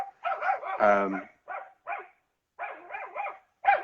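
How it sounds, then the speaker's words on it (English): A dog barks in several loud, close bursts over roughly four seconds, with pauses between the barks. "The dog is going nuts."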